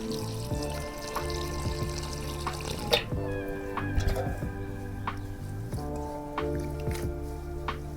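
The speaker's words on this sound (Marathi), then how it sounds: "चला आता मस्त आपण भाजी धुवून घेऊया" Leafy wild vegetables are washed by hand in water, with soft drips, splashes and squishy rustles over a steady low hum. The sounds come close and fairly quiet, in irregular bursts.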